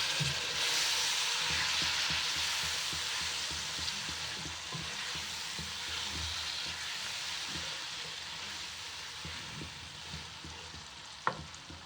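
Finely chopped tomatoes frying with achari masala and potatoes in a pan, giving a steady broadband sizzle throughout with light stirring clatter underneath and one sharp utensil tap near the end.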